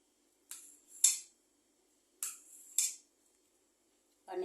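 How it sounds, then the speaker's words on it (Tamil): A knife cuts paneer into pieces on a board, four sharp strokes in two pairs with short pauses between them, close and quiet against an otherwise silent background. "பன்னீரை கட் பண்ணி எடுத்துக்கலாம்."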